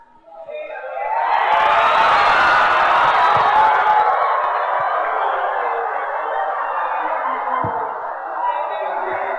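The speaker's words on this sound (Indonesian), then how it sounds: "Tepuk tangan yang meriah" A large audience at a talk-show taping at an Islamic college in Sarang gives sustained applause and cheering, a loud, steady wash of clapping and shouts that swells quickly and holds for several seconds.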